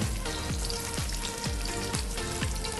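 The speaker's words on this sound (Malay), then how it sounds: "minyak pun sudah panas, so tadi terus masukkan bawang-bawang" Onions tipped into hot oil fry with a dense, steady sizzle and crackle, close up, with a few soft periodic stirring scrapes; the dish is Bruneian stir-fried bean sprouts.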